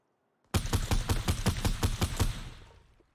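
Rapid burst of video game gunfire in Fortnite shooting down a build layer, about a dozen evenly spaced loud shots over two seconds, then a short fading tail, no talking.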